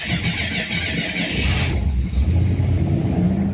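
Interior of a 2005 Cadillac STS V6 while driving: a steady engine drone and road rumble, with a brief burst of hiss partway through, no talking.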